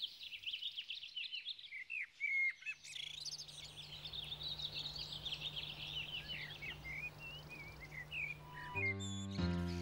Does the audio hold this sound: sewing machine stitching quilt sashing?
no